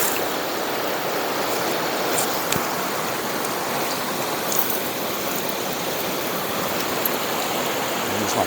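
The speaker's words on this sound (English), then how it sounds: "Just kind of give our gravel a nice rinse." Gravel being rinsed in a river, heard as a continuous, fairly loud rush of flowing water with faint splashes and no voices.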